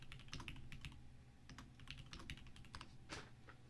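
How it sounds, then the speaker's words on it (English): Quick bursts of typing on a computer keyboard, close and fairly quiet, keys clattering in uneven clusters with brief pauses and no voices. "I'm probably just typing something in completely wrong."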